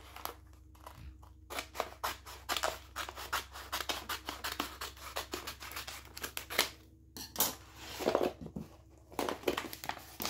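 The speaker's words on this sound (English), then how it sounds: "I'm going to cut out a piece" Scissors snip through a piece of grid-lined vinyl transfer tape, a rapid series of close, crisp cuts with paper crinkling between them, steady for about ten seconds with no talking.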